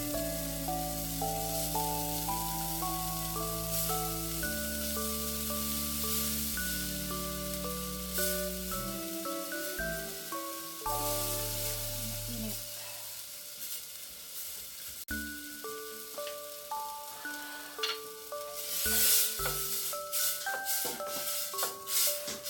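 Coconut milk sizzles in a pan of Filipino-style pork curry, a steady, fairly quiet frying hiss that runs under sustained background music and swells near the end, with no talk.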